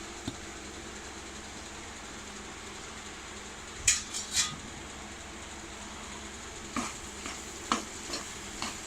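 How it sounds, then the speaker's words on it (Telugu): Mashed boiled potato mixture stirred and fried in a pan for an aloo toffee snack: a steady low sizzle with a few scraping spoon strokes against the pan, close and fairly quiet. "కలిసే వరకు బాగా కలుపుకొని కొంచెం ఫ్రై చేసుకోవాలి"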